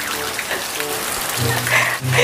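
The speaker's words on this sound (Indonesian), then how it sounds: "Hujan lagi nih." Rain falling steadily outdoors in a steady patter, with a brief low droning hum rising in the second half; no speech.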